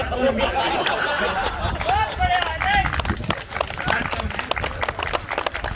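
An audience claps at a Holi celebration poetry event: a burst of scattered hand clapping mixed with crowd chatter and a few laughs, sustained throughout with uneven loudness.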